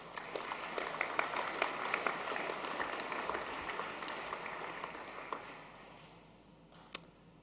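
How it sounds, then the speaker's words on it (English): Audience applause for an award winner at an annual school sports awards night: a dense, steady patter of many hands clapping in a hall, slowly fading out, with a single sharp clap near the end. "Can we please give Nathan another round of applause?"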